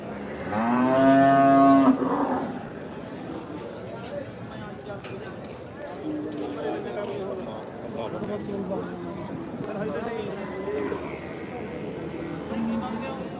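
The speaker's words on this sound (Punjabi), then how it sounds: "ਧਨੌਲਾ ਬਈ ਧਨੌਲਾ ਪਸ਼ੂ ਮੰਡੀ" Cattle at a livestock market in Dhanaula, Punjab: a loud nearby moo opens the scene, then a busy crowd murmur with people talking and occasional animal sounds continuing in the background.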